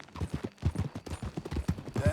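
Horse hooves clip-clop in a steady rhythm while riding in the video game Red Dead Redemption 2, close and moderately loud, with voices talking over the hoofbeats.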